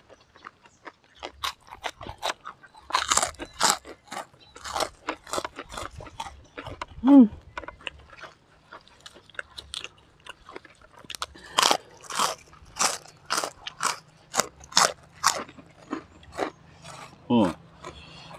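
Loud crunchy bites and chewing of raw lettuce and fresh vegetables eaten with salted fish and petai, close up in irregular bursts, with occasional murmured speech and lip smacks between mouthfuls.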